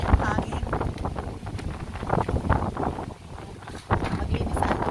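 Gusty wind buffets the microphone on a balcony in Bahrain in stormy weather with rough seas, a loud rumbling rush that rises and falls, while a person talks over it.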